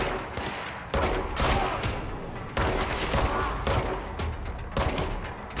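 Rapid gunfire from weapons in the video game Control, heard as repeated bursts of loud shots with brief pauses between volleys.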